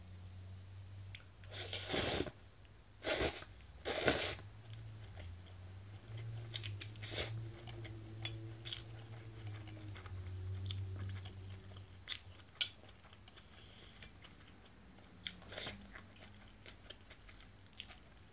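Nissin yakisoba noodles with a special spicy sauce are chewed up close: several crisp bites and crunches early on, then softer, wetter chewing and smacking continuing quietly with pauses.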